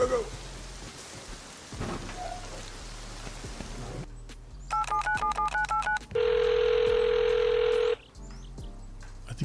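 A telephone rings in a video game, with repeated tone bursts followed by one long steady ring, over rain and rumbling thunder on a stormy soundtrack.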